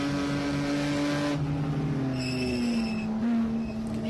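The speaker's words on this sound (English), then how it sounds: "You can hear him on the brakes." A BMW E30 race car in a ChumpCar endurance race at Circuit of the Americas, its engine note dropping steadily under braking into a corner, loud and close, with a second engine tone joining partway through.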